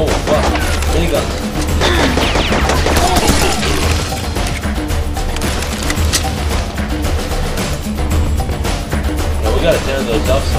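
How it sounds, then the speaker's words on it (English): Minigun firing in the video game Serious Sam 3 BFE, a dense, continuous rattling barrage that holds steady and loud throughout amid layered game effects, with voices talking over it. "Minigun."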